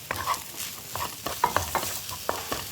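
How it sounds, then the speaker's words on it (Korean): Shrimp fried rice with vegetables being stir-fried in a pan, with a soft background sizzle and irregular scraping and stirring clatters of a utensil against the pan, close and fairly quiet. "한 번에 맛과 건강을 동시에 잡는 채소 가득한 볶음밥 만들어지고 있네요."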